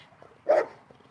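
A band dog, a Mastiff cross bred back to a pit bull, gives one short deep bark at a training session, heard at moderate distance against a quiet background.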